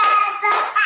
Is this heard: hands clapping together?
yes